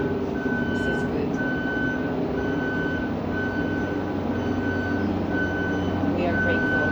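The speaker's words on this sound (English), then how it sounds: "We have trash trucks coming now" A garbage truck rumbles steadily outside with a regular high reversing beep repeating about every second, heard from indoors and continuous, while someone talks over it.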